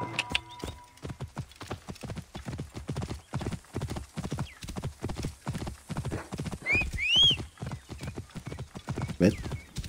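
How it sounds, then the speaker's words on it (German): Horses in the Assassin's Creed Origins video game, a long steady run of close, loud hoof clip-clops with brief whinnies breaking in near the middle and end. "So, die Pferdchen stehen ja hier noch."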